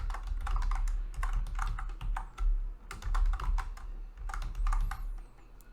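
Rapid clusters of key presses on a computer keyboard, with short pauses between bursts, as a password is typed during a software installation; close and clear, no talking.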